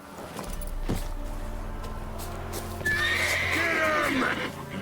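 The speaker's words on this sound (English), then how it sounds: "Whoa there, Roach" A horse whinnies and neighs in The Witcher 3 video game, its hooves clip-clopping underneath, close and clear with steady game ambience.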